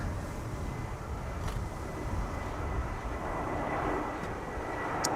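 EasyJet passenger jet at Schiphol Airport, giving off a steady broadband engine roar that holds at moderate, even loudness throughout.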